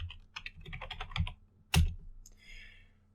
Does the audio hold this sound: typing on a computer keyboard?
yes